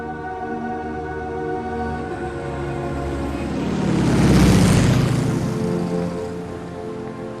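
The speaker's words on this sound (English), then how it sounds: "I'm pretty sure that exact same train and plane went by when we first got" An airplane flies over in the video game Alan Wake. Its broad roar swells from a distance, peaks loudly midway and then fades, over a steady droning tonal background.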